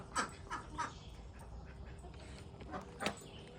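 Faint ducks quacking on a farm, a few scattered short quacks over a quiet outdoor background.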